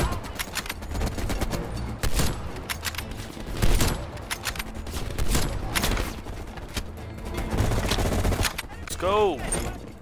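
Dense gunfire from the Call of Duty: Cold War campaign, with repeated bursts and sharp shots packed together loudly throughout, along with booms and other battle effects.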